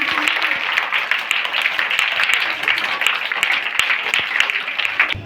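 A school audience applauds for mothers at an International Women's Day event at Vidya Mandir Bhusauli, giving lively, dense clapping from many hands that stays strong and steady throughout, with a little crowd noise mixed in.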